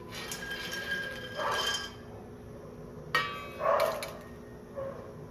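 Makhana (fox nuts) dry roasting in a pan, with bursts of rattling and clinking as the nuts are tossed and stirred, two louder scraping clusters separated by quieter gaps and a sharp knock.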